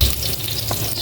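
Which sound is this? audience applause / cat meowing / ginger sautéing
ginger sautéing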